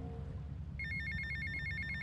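Telephone ringing in the video game GTA Vice City, a repeating electronic trill that starts partway through over a low game background hum.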